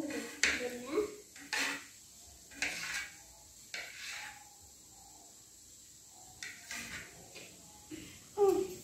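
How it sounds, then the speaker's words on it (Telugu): A knife cuts a banana into thick pieces on a board for fruit custard, several short dull chops and taps spaced a second or so apart, close and moderately loud, with kitchen clatter between them. "ఇలాగల్లా కొంచెం లావు ఉన్న పీసెస్ ని కట్ చేసేసుకుందాం."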